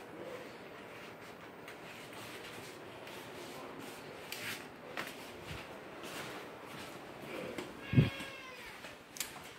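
A cat meows a few times at close range over a low steady background hum, with one louder meow near the end.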